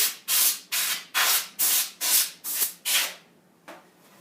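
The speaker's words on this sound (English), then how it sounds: "Spray off your ports on the back of your computer." Eight short, forceful bursts of compressed air hiss in a steady rhythm while cleaning the back ports of a computer, close and loud, followed by a quieter final puff.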